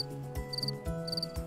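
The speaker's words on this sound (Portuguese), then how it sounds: "um mal-humorado grilo, com um pulo certeiro, pulou em sua cabeça e esfregou as perninhas" A cricket chirps in two short bursts of rapid, high trills over a soft musical background.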